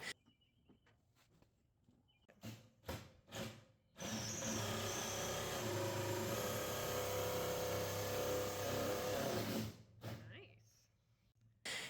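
A power drill whirs steadily for several seconds while boring a hole into the side of a door for the latch, preceded and followed by short bursts of handling noise and a few brief tool sounds.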